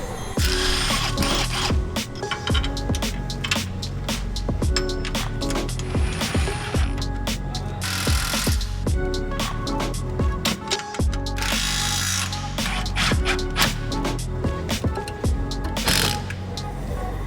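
A ratchet clicks rapidly and repeatedly while removing a sway bar bracket on a Toyota Tacoma, with dense metallic clicking and tool clatter running loud and continuous throughout.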